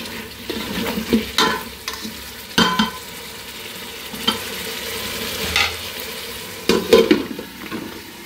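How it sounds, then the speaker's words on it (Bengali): A spoon stirs beef and potato curry in a pot, giving repeated scraping, squelching strokes over a low steady sizzle, with bursts of stirring at irregular intervals, close by. "একটু ভালো করে নাড়াচাড়া করে তারপরে আবার একটু ঢেকে দিই।"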